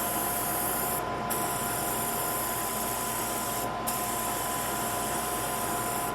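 A continuous hiss of Clean Armor cleaner spraying runs throughout, loud and close, with two brief gaps where the spray stops.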